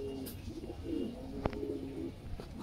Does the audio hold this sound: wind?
no